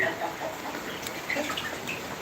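Chickens and ducks on a farm cluck in short scattered calls over a steady background hiss, with a few brief higher chirps mixed in.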